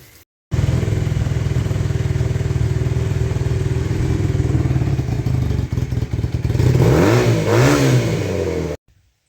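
A 1980 Honda CM400T motorcycle engine idles loudly and steadily up close, then revs up and down several times before cutting off.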